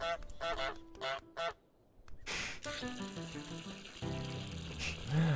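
Cartoonish goose honks from Untitled Goose Game, a few short nasal calls near the end over busy game sounds with running-water noises and light music earlier.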